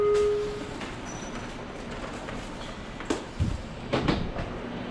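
Steady rumble of a train in motion on Amami Oshima, Japan, with a few clanks and rattles, no voices, a continuous low roar throughout.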